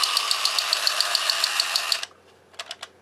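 A restored Tomy Terrible Tank toy fitted with a new motor runs with a steady buzzing whir and a rapid, regular ticking clatter, then stops abruptly, followed by a few light clicks.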